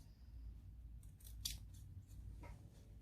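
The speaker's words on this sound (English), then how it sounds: "so then we just trim off the excess right around your lining piece" Scissors trimming excess fabric around a lining piece for a sewing project, several crisp close snips in quick succession in a quiet room.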